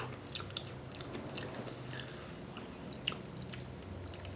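Close, wet chewing and squishing of tough raw noni fruit (Morinda citrifolia), with irregular crunchy bites over several seconds and no talking.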